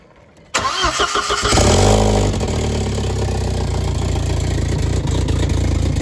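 A Volkswagen B5 1.8T engine with a big turbo starts for the first time. The starter cranks briefly, the engine catches with a loud rise in revs, then settles into a steady, rough idle.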